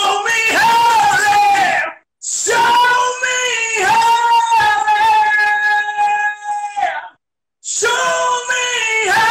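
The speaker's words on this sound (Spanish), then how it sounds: "ese grito fue potente" A loud, sustained scream rings out in long, powerful bursts, broken by two brief pauses, dominating the whole stretch.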